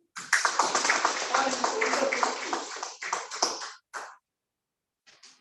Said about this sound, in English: Give a big round of applause to my first time evaluator